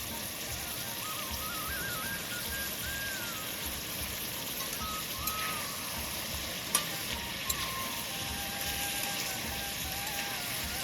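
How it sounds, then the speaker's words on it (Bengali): Chicken being stirred and fried in a kadai, a steady close sizzle with soft scraping from the stirring and a couple of brief sharp clicks. "তো এইভাবে আমি চিকেনটা 2 মিনিট নাড়িয়ে নেব।"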